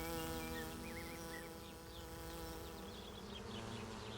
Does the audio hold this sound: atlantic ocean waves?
no